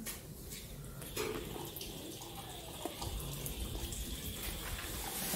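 Water runs from a tap into a sink in a steady, fairly quiet stream, with a few small knocks and splashes mixed in, heard on its own without talk.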